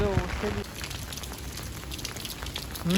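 Heavy rain pours steadily across Bahria Town, Karachi, a dense continuous hiss of water with voices talking briefly at the start and end.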